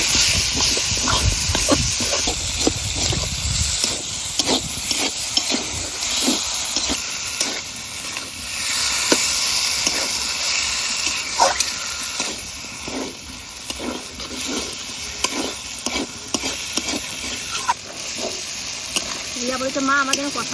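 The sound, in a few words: duck meat added to fried spice paste, sizzling and stirred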